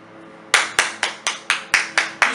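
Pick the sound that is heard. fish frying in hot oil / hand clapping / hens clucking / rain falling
hand clapping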